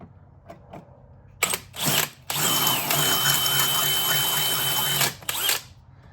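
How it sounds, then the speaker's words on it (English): A power drill bores from the back of a metal general tool box to clear a hole for a rivet, with short starting bursts and then a steady, loud, close whine lasting a few seconds before stopping. "I'll just drill from the back here"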